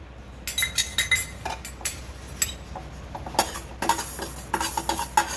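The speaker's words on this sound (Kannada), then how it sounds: "ಇದಕ್ಕೆ ನಾನು ಸಾಸಿವೆ ಮತ್ತು ಮೆಂತೆ ಹುರ್ಕೋತೀನಿ." Mustard seeds and fenugreek are stirred while roasting in a pan, giving a run of sharp metallic clinks and scrapes with a soft sizzle underneath, close and fairly quiet, with no voices.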